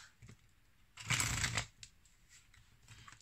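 Oracle cards shuffled at close range: one quick riffling burst of paper flutter, then faint light card taps and slides in a quiet room.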